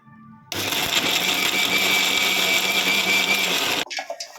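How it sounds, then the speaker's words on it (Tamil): Mixer grinder grinding soaked dal with a little salt, a loud, steady whirring grind lasting about three seconds before it stops, with no talk. "மிக்சியாக இது கூட வந்து கொஞ்சமாக உப்பு சேர்த்து நல்லா நைஸாக அரைச்சி எடுத்துக்கலாம்"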